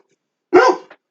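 A pet dog named Charlie lets out a single sharp bark at close range, with a faint short yip trailing after it, in an otherwise quiet room.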